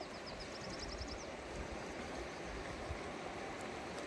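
A cold stream in the desert, with cattle drinking from it, rushes steadily, a constant broadband wash of flowing water with no talk.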